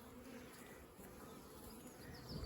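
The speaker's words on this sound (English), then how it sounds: "So there's still a lot of bees there to go" A swarm of bees buzzing around a hive box after being knocked in, a continuous faint droning hum from many insects, steady with a slight swell near the end.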